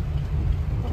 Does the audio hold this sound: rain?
yes